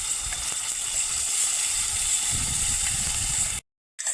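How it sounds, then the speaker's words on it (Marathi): Paneer curry gravy poured into hot oil sizzles with a steady, bright hiss that holds evenly and then cuts off abruptly into silence before briefly resuming. "तर ही जी गिरवी का आपली ती सगळी आपल्याला तेलामध्ये टाकायची"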